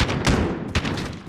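Gunfire in a modern military shooter game comes as a few sharp, close cracks over a rough, noisy background, with two stronger shots standing out in a very brief burst.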